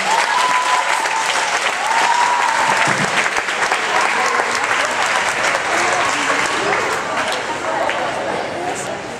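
Guests at a lively party with a dance floor break into sustained applause, a dense wash of clapping that carries on for several seconds with voices mixed in among the crowd.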